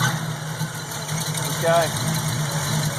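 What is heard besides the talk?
car engine with Holley 670 Street Avenger carb starting and idling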